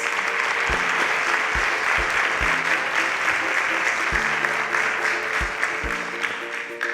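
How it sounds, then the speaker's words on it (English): Audience applauding panelists at a Nigerian tech pitch show, a steady, dense wash of clapping lasting several seconds with a few louder individual claps standing out near the microphone. "Please, a round of applause for our panelists."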